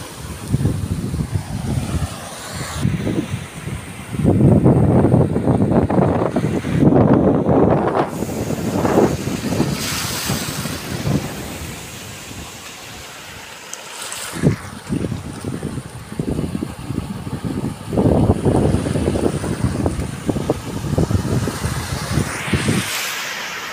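The amihan, the northeast monsoon wind, blows hard in gusty rushing roars that buffet the microphone, with surging waves underneath and no voices.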